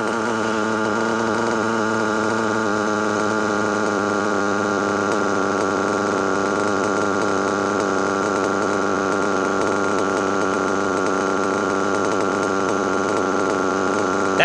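LRP .32 Spec4 RC nitro engine fitted with a Nova carburetor, running loud and close at very high revs in a sustained, buzzing scream with slight rising and falling pitch throughout.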